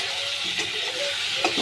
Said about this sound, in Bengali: দেখুন যত নাড়াচ্ছি মশলাগুলো বেশ ভাজা ভাজা হচ্ছে